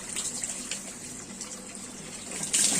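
Water pours and splashes close by while a dog is bathed, a continuous wet rush that swells into a louder gush at the end.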